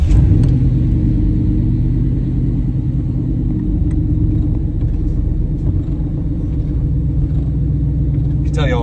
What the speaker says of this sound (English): So let's fire up and get ready for a ride.